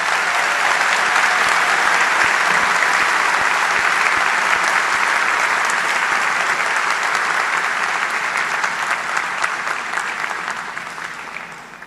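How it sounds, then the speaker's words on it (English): A large audience at the Oakville High School graduation ceremony applauds steadily for about twelve seconds, a dense even clapping that slowly tapers off toward the end. "Let's give them all a big round of applause."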